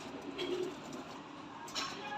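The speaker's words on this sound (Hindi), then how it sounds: "ये देखें जी मादी नंबर 4 लाल बुलियों वाली कबूतरी है" A female pigeon gives a soft, low coo, faint and brief, with a couple of quiet murmuring notes against a hushed background.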